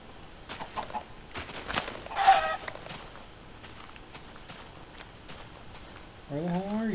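Chickens clucking in the video game Minecraft on Xbox 360, short clucks and a squawk scattered through the stretch, with people talking over the game sounds.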